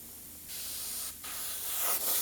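An airbrush loaded with thinned paint hisses in steady bursts over a dragon model, with short pauses between sprays.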